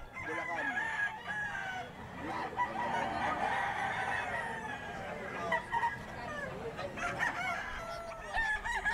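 A White Kelso gamefowl rooster crows repeatedly at a poultry sale in Bocaue, Bulacan, its calls mid-distance over a busy outdoor background with other fowl.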